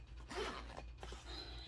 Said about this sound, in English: It's double zipped,